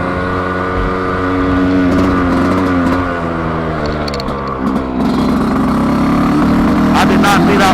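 A 2025 Yamaha YZ125X two-stroke dirt bike engine running on 32:1 premix, a loud, close, buzzing drone that holds steady, then shifts pitch as the revs change, with no talk over it.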